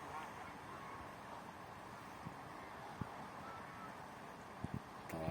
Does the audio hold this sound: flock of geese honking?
yes